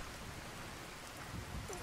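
Steady rain falls in Skyrim, modded for darkness and heavy downpour, a dense continuous hiss with faint patters over a low rumble, no voices.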